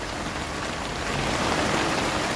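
Steady rain falls outdoors at an industrial area, a continuous even hiss of drops that builds slightly louder toward the end, with no voices.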